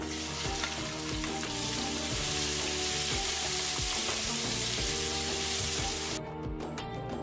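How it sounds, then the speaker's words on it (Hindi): Onions frying in 2 to 3 tablespoons of hot cooking oil in a pressure cooker, with a loud, close, continuous sizzle and intermittent stirring scrapes, ending abruptly in a quieter tail. "ऑयल के गर्म होते ही साथ ही हम इसमें डाल देंगे प्याज।"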